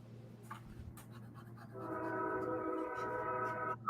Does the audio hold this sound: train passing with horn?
yes